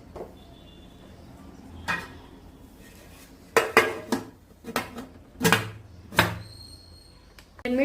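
A lid goes onto a cooking pot while Nellore-style tyagalu cook, giving several sharp metallic clanks and clatters spaced over a few seconds, close and fairly loud against a low kitchen background.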